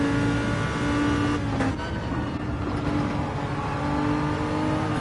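Engines of a Lamborghini and a Nissan GTR in a GT1 racing video game at the Brazil circuit, a steady loud droning roar with rising revs as the cars run close together.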